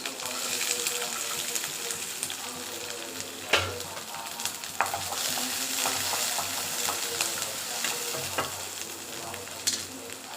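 Onions and small shallots fry in a pan with a loud, steady sizzle close by, with a few knocks and scrapes of a spoon stirring them.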